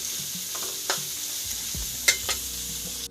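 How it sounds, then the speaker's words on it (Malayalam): Chopped tomatoes sautéing in a pan for egg fried rice, a continuous sizzle broken by scraping stirs and a few metallic spatula knocks, close by with no talking. "എന്നിട്ടൊന്ന് ചെറുതായിട്ടൊന്ന് വരട്ടിയെടുക്കുക."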